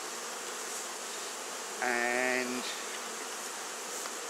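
Honeybee swarm being moved into a top bar hive, a constant dense hum of many bees with one louder buzz close by near the middle and a brief voice.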